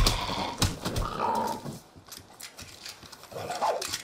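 A dog in the video game Far Cry New Dawn growls in low, rough bursts amid game noise, the snarls rising and falling at moderate loudness without speech.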